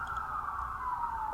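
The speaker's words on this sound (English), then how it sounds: "Just then I heard sirens in the distance." Police sirens wail in the distance, a steady rising-and-falling tone that runs throughout, faint and far away against low background rumble.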